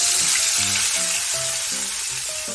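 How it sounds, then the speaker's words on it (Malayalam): Ginger, shallots, green chilli, tomato and curry leaves sauté in hot oil with a steady, loud, close sizzle that continues throughout. "അതേ എണ്ണയിലേക്ക് തന്നെ കുറച്ച് ഇഞ്ചി അരിഞ്ഞത്, കൊച്ചുള്ളി അരിഞ്ഞത്, പച്ചമുളക് ചെറുതായിട്ട് അരിഞ്ഞത്, തക്കാളി അരിഞ്ഞത്, കുറച്ച് കറിവേപ്പില, ഇത് ഇത്രയും ഇട്ട് നന്നായിട്ട് വഴറ്റിയെടുക്കാൻ പോവുകയാണേ"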